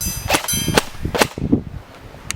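Airsoft replica firing BBs at a STRATAC training plate, several sharp cracking shots in an uneven quick sequence, loud and close, with no talk.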